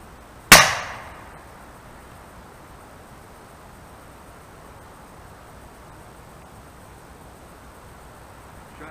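A single sharp crack from a Condor .25 air rifle, loud and close, with a short decaying tail and then quiet background for the rest of the clip.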